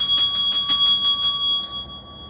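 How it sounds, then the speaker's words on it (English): Traditional handbell rung in quick repeated strikes, about eight bright metallic rings with a sustained ringing tone that fades out after the last strike. "This is just a traditional bell."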